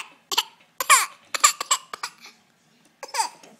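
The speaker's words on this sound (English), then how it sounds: "It's the laugh cough." A young child forces out a string of fake coughs blended with laughter, short breathy bursts in close succession with brief pauses between them, close and fairly loud.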